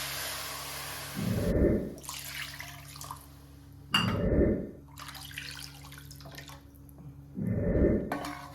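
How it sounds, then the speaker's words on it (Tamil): Water pours into a cooking pot for foxtail millet kichadi in three separate bursts, each a short splashing gush of a couple of seconds with quiet pauses between. "ஃபஸ்ட்டு கப் தண்ணி நான் ஊற்றுக்கிறேன்."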